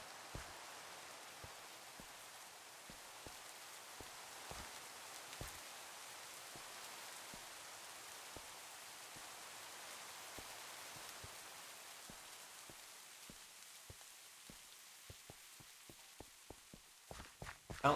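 Rain in the modded Minecraft game TerraFirmaGreg, a soft steady hiss of falling rain at low level with a string of light regular footstep-like taps that grow sharper near the end.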